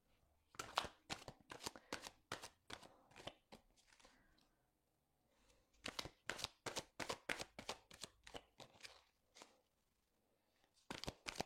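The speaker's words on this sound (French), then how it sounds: "On va commencer déjà avec un tirage du tarot." Tarot cards being shuffled, a long series of crisp riffling bursts with a short pause partway through, close and fairly quiet with no talking.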